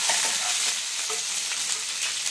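Chopped green chillies sizzle in hot oil in a pan over medium gas for Dhaba-style tadka dal, a close, steady frying hiss with light stirring and no talk.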